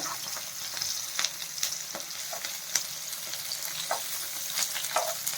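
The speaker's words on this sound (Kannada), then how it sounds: "ಬೆಂಡೆಕಾಯಿ ಎಲ್ಲ ಬೇಗನೆ ಫ್ರೈ ಆಗೋಗುತ್ತೆ" Okra (lady finger) fries in a pan on the flame with a steady, close, continuous sizzle, broken by occasional sharp crackles and pops.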